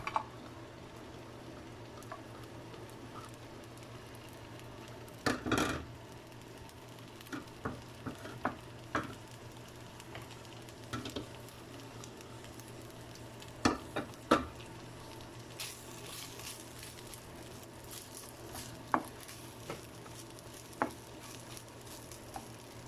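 Chicken pieces sizzling in a frying pan, a faint, steady frying hiss that runs throughout. Scattered clinks and stirring scrapes rise above it now and then, close by, with no voices.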